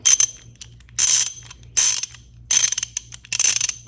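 Ratchet wrench clicking on the alternator belt tensioner of a C5 Corvette Z06, five loud bursts of rapid pawl clicks close up with brief pauses between strokes, over a low steady hum.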